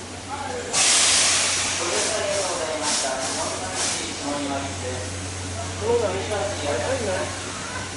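At a Tobu Kinugawa Line station, the SL Taiju steam locomotive's broadband steam hiss bursts out loudly, then settles into a steady rushing hiss beneath a low engine rumble, with muffled voices and a Japanese station announcement underneath.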